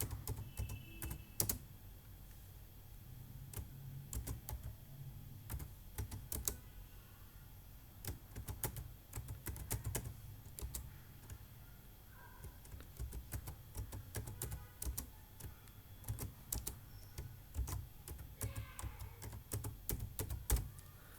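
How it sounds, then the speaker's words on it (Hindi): Fingers tap out a business name on a computer keyboard, giving quiet, irregular clicky keystrokes in short bursts and pauses over a soft low room hum, with no talking. "अब उसका नाम मैं यहाँ पे टाइप कर दूंगा"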